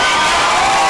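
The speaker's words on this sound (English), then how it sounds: "Rush Club Nation crowd, loud and proud in the house tonight" A live crowd at a functional fitness competition roars and cheers loudly in an indoor venue, a dense, sustained wall of voices heard up close.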